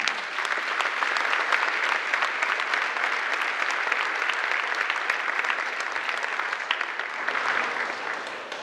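A crowd at a ribbon-cutting ceremony applauds school ambassadors, sustained, even clapping from many hands that holds at a steady level for several seconds without a break.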